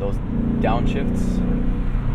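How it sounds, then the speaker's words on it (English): A 2020 Mustang Bullitt downshifts with automatic rev matching, a loud, low engine drone from inside the car with brief rising blips, while someone talks over it. "Downshifts."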